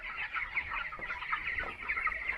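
Chickens and roosters clucking in a poultry farm shed, a continuous faint chorus of overlapping clucks and calls at moderate distance with no talking.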